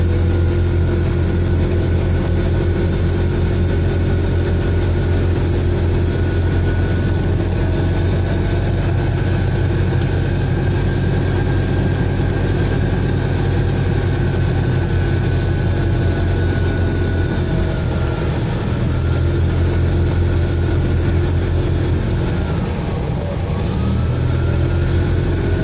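Citroën 2CV engine labouring steadily in first gear as the car climbs a hill toward misty mountains, a continuous low drone that rises slightly in pitch near the end, loud and close with no talk.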